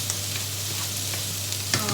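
Steady sizzle of zucchini and other vegetables frying in a pan, with an occasional soft stirring scrape near the end, close and even, no voices.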